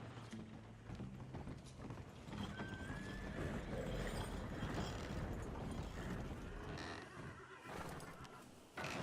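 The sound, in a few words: horse neighing in video game Red Dead Redemption 2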